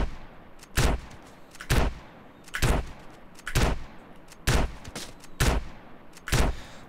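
Shotgun blasts in GTA San Andreas ring out eight times at a steady, roughly one-per-second pace, each a loud, sharp crack with a short tail, with no talking over them.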